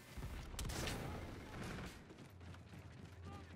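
Gunfire in the Call of Duty: Infinite Warfare video game, a short flurry of sharp shots and mechanical clatter, loud up front and then thinning into quieter rattles.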